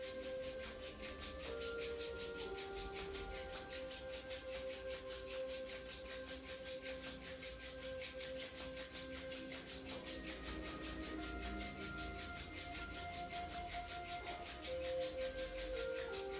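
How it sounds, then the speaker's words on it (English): Palms rubbing together to build warmth during a yoga relaxation exercise, a soft continuous friction swish lasting throughout, faint and steady against a background hum, with no talk. "Rub your palm and make a heat."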